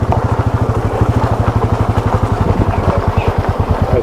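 A motorcycle engine idles close and loud with a steady, rapid thumping pulse throughout, on a rough road near Pushkar before the bike is parked.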